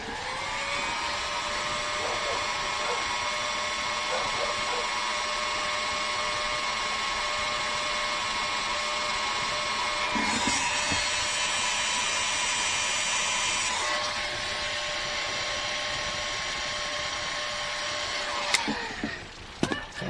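A heat gun blows steadily to shrink heat-shrink tubing on trailer wiring for a 1968 VW Fastback, a continuous close-up whine and rush of air that brightens partway through and cuts off near the end with a few handling clicks.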